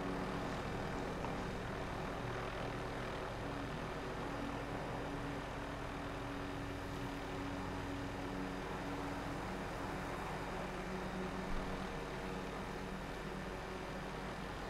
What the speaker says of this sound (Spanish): me está petardeando el helicóptero